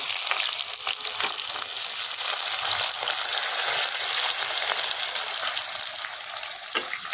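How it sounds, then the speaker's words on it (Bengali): Onions frying in hot oil with cumin seeds while cooking outdoors in winter, a dense, steady sizzle with faint crackles, close and continuous, with no talking. "এবার আমি পেঁয়াজ পেঁয়াজগুলো দিয়ে দিচ্ছি"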